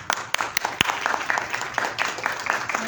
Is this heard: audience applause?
yes